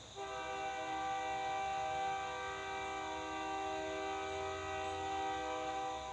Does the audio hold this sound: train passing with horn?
yes